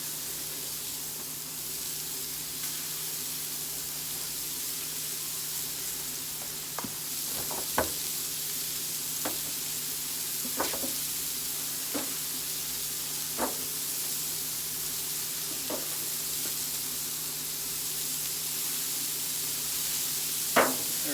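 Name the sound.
teriyaki bacon smash burgers sizzling on Blackstone griddle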